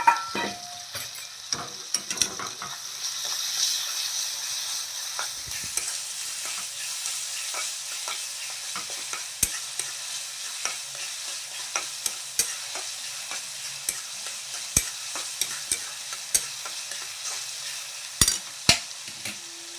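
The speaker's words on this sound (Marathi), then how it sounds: "आता आपला कांदा मऊ झालेला आहे त्यानंतर टाकूया आपण टमाटे टमाटे टाकू" Chopped tomatoes frying with softened onions in a pan for a Maharashtrian Bombay duck curry: a close, continuous sizzle broken by frequent sharp spoon scrapes and taps as the mixture is stirred, with no voices.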